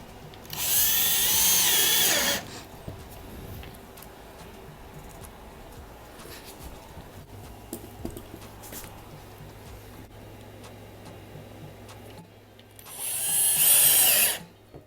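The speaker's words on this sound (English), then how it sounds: "then I'm going to flip it back over and add the screws to it" A power drill drives screws into wooden wall panel boards for an electric fireplace surround, two loud close whirring bursts at the start and end separated by a long stretch of quiet room noise with small handling knocks.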